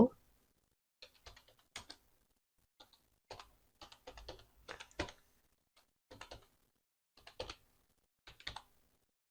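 Keys on a computer keyboard tapped in quick, uneven bursts of clicks with short pauses between words, close up in a quiet room, while text is typed in Bangla and English.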